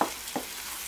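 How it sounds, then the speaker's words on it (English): Jalapenos and onions frying in a pan, a steady hissing sizzle with two short stirring scrapes, close and fairly loud. "dump in the jalapenos. And get them mixed up, and I'm just going to let that cook until"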